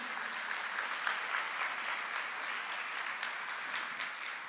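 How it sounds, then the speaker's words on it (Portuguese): A church congregation applauds during a Portuguese-language sermon, a dense, steady wash of many hands clapping at an even level for the whole stretch, with no voices rising above it. "Você pode aplaudir ao Senhor?"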